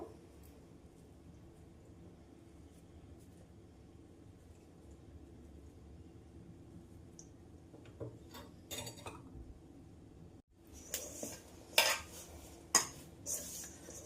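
Wheat flour biscuit dough being mixed lightly by hand in a bowl, soft scraping and clinking against the dish that grow louder and more frequent toward the end over a low, steady background hum.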